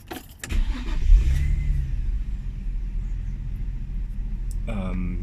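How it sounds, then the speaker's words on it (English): An Infiniti G35's engine runs as a steady, low idle rumble close by, with brief clunks and a short voice at the start and end. "Let me give you some of the G35 engine noise"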